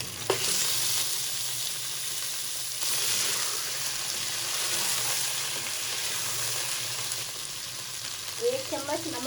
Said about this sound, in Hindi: गरम मसाले के साथ अदरक लहसुन के साथ हम 5 मिनट के लिए गोश्त को फ्राई करेंगे